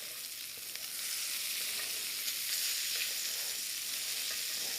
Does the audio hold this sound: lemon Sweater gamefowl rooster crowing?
no